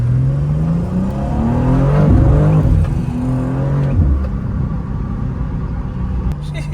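A tuned performance car, driven hard on public roads, revs and accelerates through several rising gear pulls, loud and close from inside the cabin, with a person talking over the engine.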